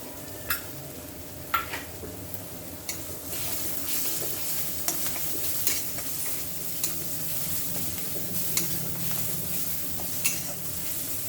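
Mutton fries in a pan with a ground paste of coconut, garlic, ginger and coriander plus a pinch of turmeric, giving a low, steady sizzle broken by a dozen sharp scrapes and taps of a spatula against the pan.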